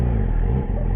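A Yamaha R6 sport bike sits idling in 32-degree cold, a low steady engine rumble heard close and continuous for a brief moment, with no voices.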